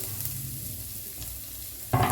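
Finely chopped garlic frying in hot cooking oil for a prawn starter, a close, even sizzle with a light stir, then a sharp knock of the utensil near the end.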